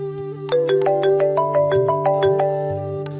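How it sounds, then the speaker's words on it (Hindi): An electronic ringtone plays a bright repeating melody of quick tonal notes, loud and close, over a sustained low drone. "फोन बजता है, वो चिढ़कर फोन उठाता है"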